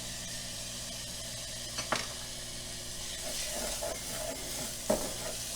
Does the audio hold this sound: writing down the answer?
no